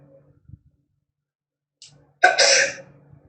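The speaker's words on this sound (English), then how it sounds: "First, sneezing." One sharp, close sneeze in a lab droplet experiment, preceded by a short intake of breath, with near silence before and after.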